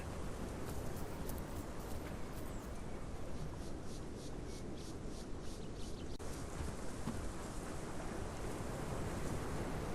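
Sea surf rolls onto a shore in Path of Titans, a continuous broadband wash of breaking waves mixed with wind rush, steady and moderately loud with occasional brighter splashes and no voices.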